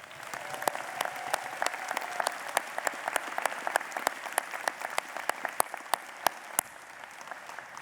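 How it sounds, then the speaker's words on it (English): A crowd at a graduation commencement ceremony applauds steadily for the musicians, with sharp individual claps standing out over a dense, continuous patter of hands in a large room. "Let's give them a round of applause."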